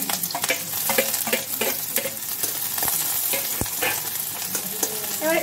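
Onions fry and sizzle in a pan under steady stirring, with a continuous crackling hiss and scraping strokes close up, no voices.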